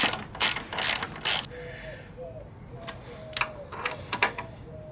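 A ratchet clicks in quick bursts while tightening bolts on the front forks of a Yamaha MT-07 during a fork spring and oil change. Close, loud runs of clicks come first, then a pause and softer, scattered ratcheting.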